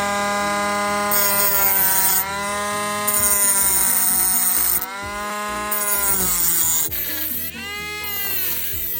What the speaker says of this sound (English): And we'll just slowly grind at it until it fits. This is metal cutting disc.